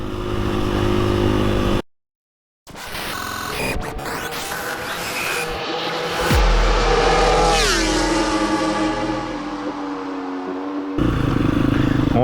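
A motorcycle engine roars as the rider pulls a wheelie, loud and close, with a brief cut-out and then the revs climbing and holding high before settling, plus rattling clatter mixed in.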